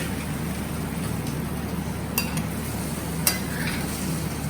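A spoon stirs a sugar mixture in a pan with a steady, soft scraping and bubbling, plus a couple of faint clinks of utensil on the pan.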